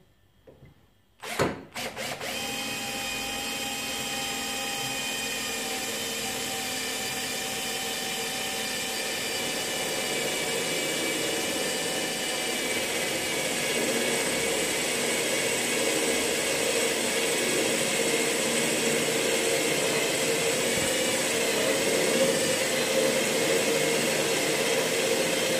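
A Parkside PBSA 12 D3 cordless drill in drill mode, second gear, kicks on after a brief click and runs at a constant high whine for a long stretch drilling metal, steady and close.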